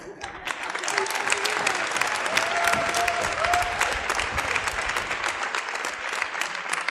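A school revue audience applauds steadily and densely throughout, a full room of clapping hands with a faint voice briefly audible underneath.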